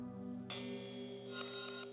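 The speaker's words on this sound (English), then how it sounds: "I think it's a piece of glass breaking played backwards is what I think it is." A reversed glass-break transition effect used in beatmaking: a soft swelling whoosh that suddenly rises into a bright sustained shimmer, with a few brief flares near the end, playing alone over a steady low tone.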